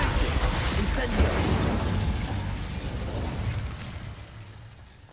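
An Incendio fire spell is cast in the Hogwarts Legacy video game, a loud whooshing burst of flame that roars continuously and slowly fades over about five seconds.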